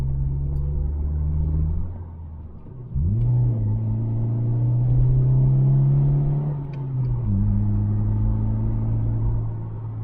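Deep, throaty exhaust rumble from a Honda CR-Z with a Spoon N1 exhaust in sport mode, dipping then swelling as revs rise and fall, close and steady throughout.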